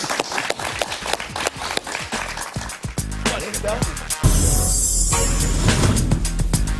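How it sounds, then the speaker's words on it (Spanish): Studio audience clapping in a talk show, first scattered distinct claps, then a dense, loud burst of applause that swells and holds steady to the end. "Un aplauso para él."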